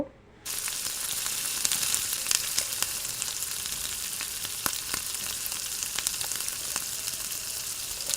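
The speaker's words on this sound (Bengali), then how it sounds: "আমি এখানে পেঁয়াজ বেরেস্তা করব এই জন্য আমি একটু সাদা তেল দিয়ে দিচ্ছি এখন পেঁয়াজগুলো দিয়ে দিব" Steady, loud sizzling of food frying in hot oil, a continuous crackling hiss that starts abruptly after a brief quiet moment.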